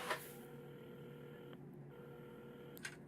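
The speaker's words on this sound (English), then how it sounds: "Carmen had started dialing the phone" A telephone number is dialed, a steady tone running under two short breaks between key presses, with faint clicks at the start and end and no voices.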